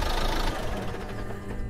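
A car engine in the video game Car Hazard idles at a steady, close, low rumble with a faint knocking texture, running continuously with no voices over it.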